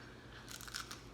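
Hot, freshly baked caraway seed rye bread, a no-knead whole plant-based loaf, gets bitten through its crunchy crust: a few faint, close, crisp crunches in quick succession.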